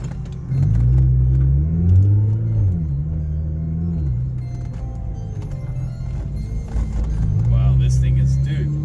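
A Nissan GT-R R35 engine revs in several rising and falling pulls, a deep, close, loud rumble that swells and drops, with people talking over it.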